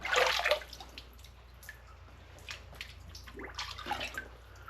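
Water from a cold plunge chlorine test sample being dumped out, a short splashy pour at the start followed by faint scattered drips and trickles, close and quiet.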